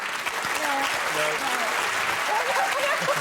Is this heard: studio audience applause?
yes